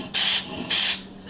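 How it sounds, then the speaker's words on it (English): Two short bursts of baking spray from an aerosol can hiss into a bundt pan, each lasting about a quarter second with a brief pause between, close and fairly loud. "I'm going to spray this with baking spray"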